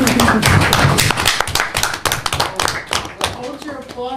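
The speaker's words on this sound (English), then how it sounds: "Hold your applause" Audience clapping at a town council meeting honoring student grade winners, with bursts of applause and scattered taps under talking voices.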